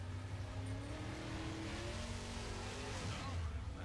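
A survivors' car in Left 4 Dead pulls away as the bridge goes down, a loud steady engine roar with rising revs and faint tire noise, with game sounds mixed in.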